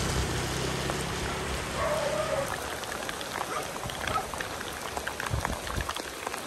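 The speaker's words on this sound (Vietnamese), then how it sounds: "Mưa to luôn đấy chứ." Heavy rain falls during a nighttime cross-country trek with thunder and lightning. It makes a dense, steady patter with scattered sharper drops, and a low rumbling hum runs under it early on.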